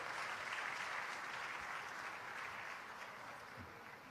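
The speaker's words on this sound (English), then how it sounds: "let's once again give them a big round of applause" Steady applause from a conference audience as children mount the stage, a dense even patter of many hands that gradually tapers in loudness, heard alone without talk.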